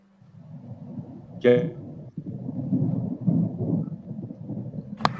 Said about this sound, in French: on entend l'orage derrière